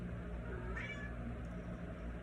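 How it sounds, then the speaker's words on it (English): A single faint cat meow rises briefly over a steady low background hum. "my kitty's meowing"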